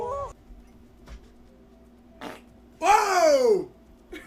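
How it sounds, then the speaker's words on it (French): A fart ends in a long squeaky, honking whine that slides downward. Faint clicks and short bursts come before it in an otherwise quiet room. "Un petit pet."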